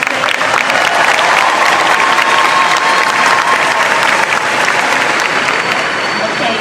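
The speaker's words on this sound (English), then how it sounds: "Can we give them another round of applause," Loud, dense applause from a room full of people cheering the class of 2026 at a prom evening, a sustained roar of clapping close by that holds steady throughout.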